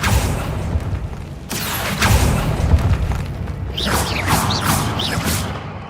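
Spell blasts in Hogwarts Legacy, the 2023 wizarding video game, give a run of booming thumps and whooshes, with a denser crackling burst toward the end, loud and close throughout.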